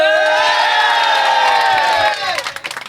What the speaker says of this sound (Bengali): নাসির ভাইয়ের জন্য তালি হবে